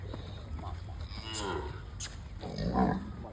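A Kankrej cow gives a low, drawn-out moo, fairly faint and at a moderate distance, with a second moo toward the end over light background noise.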